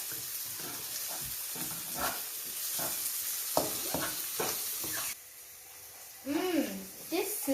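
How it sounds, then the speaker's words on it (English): Vegetables stirred in a sizzling frying pan during a school cooking competition, a steady hiss with scraping stirs under a person talking, the sizzle quieting briefly toward the end. "Now I'm going to stir it again."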